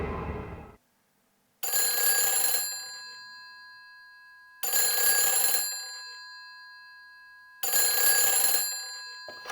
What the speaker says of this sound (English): now we're getting a phone call.